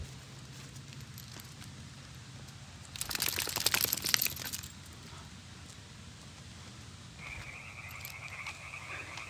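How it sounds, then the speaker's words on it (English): Frogs croak at night at an island campsite where a truck is parked, a constant chorus underneath with a louder burst of rapid, rattling croaks in the middle before settling back to a steady drone. "Man, you guys hear those frogs croaking?"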